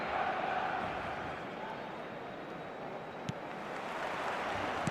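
A stadium crowd roars in the football game eFootball 2026, a broad, steady wash of distant cheering and murmuring with one brief sharp knock partway through.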